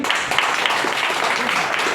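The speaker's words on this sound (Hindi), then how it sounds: "जो एक आदमी है जो हमारे सर के लिए प्लीज जोड़ो ताली।" Audience at a DXN marketing plan meeting applauding together, a dense, steady wash of many hands clapping close by for a couple of seconds with no clear talk.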